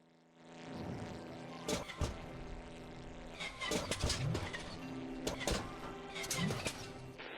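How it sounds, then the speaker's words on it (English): A struggling aircraft engine in the Brew Barons video game drones steadily with a rough, labouring tone, broken by several sharp sputtering bursts throughout. "Sounds like our engine is struggling up here."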